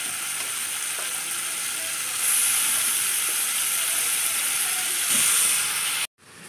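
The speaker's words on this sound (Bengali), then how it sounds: "সব দিয়ে এটা নাড়াচাড়া করে করে ভাজা ভাজা করব।" Loitta fish fry in oil with onion, garlic and tomato, giving a loud steady sizzle that swells louder partway through, with faint stirring clicks before the sound cuts off abruptly near the end.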